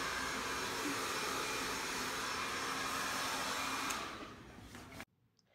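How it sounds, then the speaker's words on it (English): A hair dryer blows with a steady, loud whirring roar nearby, then winds down and cuts off abruptly. "This is a hair dryer."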